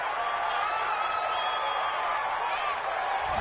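A home crowd at a football game roars steadily after a penalty call, a broad wash of cheering and scattered clapping heard from a distance under a commentator's voice.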